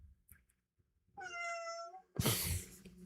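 A kitten meows indoors: one clear, drawn-out, tonal meow close to the listener, followed by a louder, breathy, harsher cry, with short quiet gaps and soft clicks before the calls.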